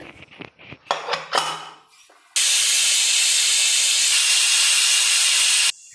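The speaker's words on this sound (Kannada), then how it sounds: "ಈಗ ಎರಡು ಇಜಿಲ್ ಕೂಗಾಗಿದೆ" A pressure cooker holding head mutton and greens lets out a loud, steady steam whistle-hiss lasting about three seconds, preceded by brief clatters of pots and utensils.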